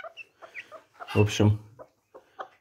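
A hen clucks in short bursts close by, disturbed by a piglet sitting beside her, with a louder squawking burst in the middle, while a person speaks briefly.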